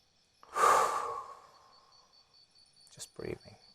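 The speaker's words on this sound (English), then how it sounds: "Just breathing." One long, slow breath, a close sigh-like exhale that fades over about a second, followed by a couple of short, softer breath sounds.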